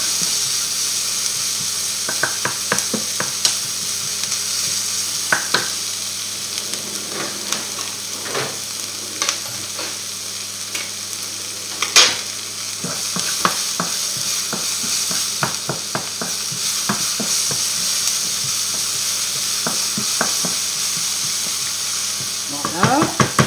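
Garlic and onions frying in a pan, a steady close sizzle with scattered stirring scrapes and clicks throughout, no talking.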